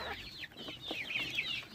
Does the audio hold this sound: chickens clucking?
yes